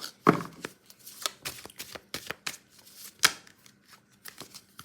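Tarot cards being shuffled, a series of quick riffling and slapping bursts repeating irregularly, close and clear with no talking.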